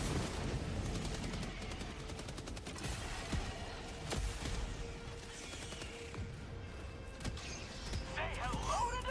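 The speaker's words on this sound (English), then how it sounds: "that's why you bring the autocannon" An autocannon fires in Helldivers 2 amid sporadic gunshots, the heavy reports spaced irregularly and fairly quiet, with a voice talking in between.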